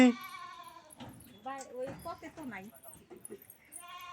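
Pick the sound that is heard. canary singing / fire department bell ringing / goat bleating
goat bleating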